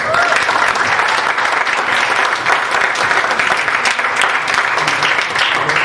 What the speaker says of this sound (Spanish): Den un aplauso al Espíritu Santo.